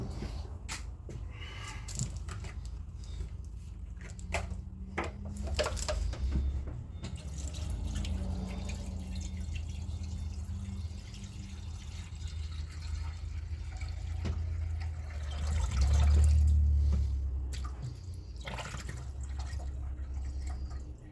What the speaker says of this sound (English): now we'll fill it with water.